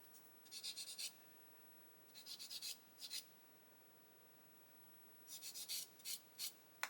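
Airfix plastic model parts being gently sanded by hand, several short bursts of close, faint scratchy rubbing strokes separated by quiet pauses.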